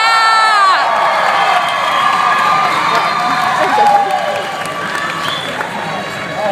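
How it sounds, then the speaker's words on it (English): A SXSW 2014 convention audience at a Q&A session cheers and whoops loudly, a dense, sustained roar of many voices with scattered shouts and clapping that continues unbroken for several seconds. "we want to make sure they cheer loud enough"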